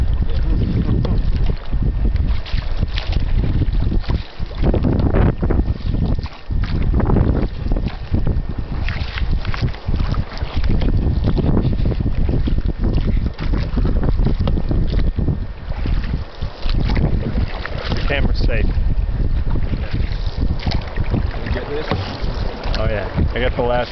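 A boat rushes through river rapids, churning, splashing water with steady wind buffeting the microphone; faint voices come through now and then.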